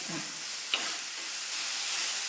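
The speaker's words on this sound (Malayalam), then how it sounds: "അപ്പോൾ അത് അവിടെ കിടന്നൊന്ന് വഴന്ന് മൂത്ത് വരട്ടണം" Okra sautéing in coconut oil in a pan for a Kerala-style okra curry, a steady soft sizzle and frying hiss running throughout with one brief stir or clink, no talk.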